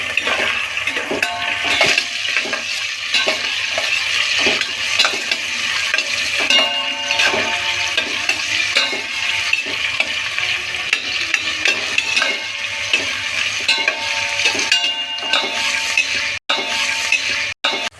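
Green chillies and onion frying in a pan, with a continuous loud sizzle and frequent metallic clinks and scrapes of a spoon stirring against the pan, close up and without talk.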